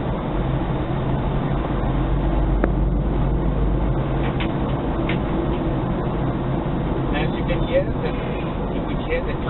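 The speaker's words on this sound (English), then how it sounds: "You could hear the tire noise." Tire roar from a Toyota Hilux 3.0 litre KZTE turbodiesel 4x4 rolling on BF Goodrich KO all-terrain tires, a steady broadband rumble inside the cab with a voice talking over it.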